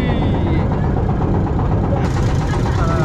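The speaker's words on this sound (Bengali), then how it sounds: "ছুটে চলেছে আমাদের নৌকা" Engine-powered boat travelling on a river near Sariakandi, Bogra, its motor a loud, close, continuous low rumble with a steady throbbing beat, broad and unbroken, mixed with wind noise.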